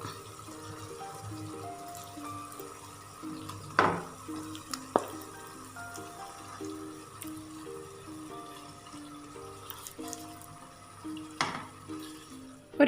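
Chicken pieces cook in hot oil in a pan for chicken mandhi, giving a soft sizzle broken by a few sharp clinks and scrapes of a utensil, all under quiet melodic background music.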